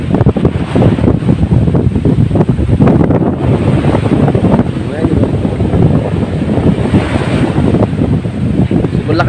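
Strong coastal wind at Apo Reef Natural Park, near a tourist boat being readied, buffets the microphone in a continuous, loud rumbling roar that barely lets up for the whole stretch.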